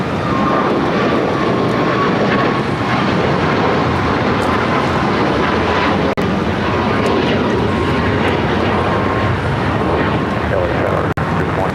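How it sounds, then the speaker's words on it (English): A Cayman Airways Boeing 737 MAX 8 taking off from LAX for Georgetown, a loud, continuous jet-engine roar holding steady throughout, with people talking underneath. "Cayman Airways 737 MAX 8 heading to Georgetown"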